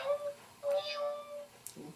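A person imitates a meowing cat with a few short, nasal, whining mew sounds, and faint voices are heard around them.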